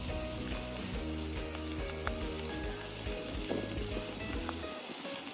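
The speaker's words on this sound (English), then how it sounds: "into the pan, we just put a couple of knobs of butter" A couple of knobs of butter sizzle in a pan with a constant, fairly loud crackling hiss and a few light metallic clinks, the sizzle thinning out right at the end.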